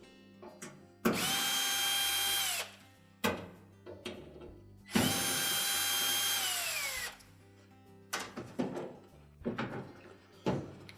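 Power drill backing out the two screws that hold a Whirlpool washer's cold water inlet valve body to the back panel, two long steady whirring runs with short clicks and handling clatter between.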